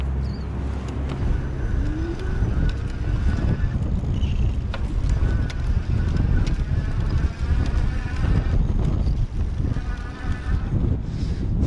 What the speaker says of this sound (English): It's a little bit windy up on this bridge.